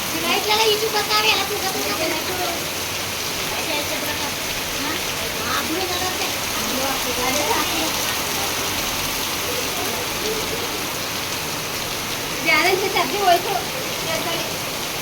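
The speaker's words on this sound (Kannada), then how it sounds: "ಇಷ್ಟು ಜೋರಾಗಿ ಮಳೆ ಬರ್ತೈತೆ" Heavy rain pours down in a dense, continuous roar, with voices talking intermittently beneath the downpour.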